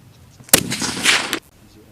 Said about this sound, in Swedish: Klart. Skott.